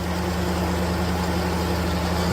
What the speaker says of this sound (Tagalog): Masyadong malakas yung turbo nito.